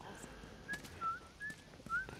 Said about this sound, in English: That girl learned how to whistle.